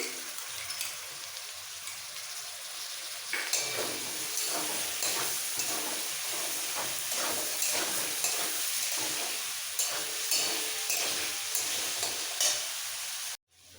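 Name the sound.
whisked yogurt added to frying potatoes and cauliflower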